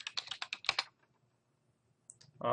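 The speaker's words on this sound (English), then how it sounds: "I usually just type in curriculum framework." Quick typing on a computer keyboard, a close burst of about eight key clicks, then near silence and a couple of faint further clicks at the end.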